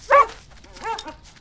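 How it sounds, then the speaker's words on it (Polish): A cartoon dog gives a short, high yipping bark, followed by softer whimpering sounds, close and clear. "Pies ma na imię Słonko."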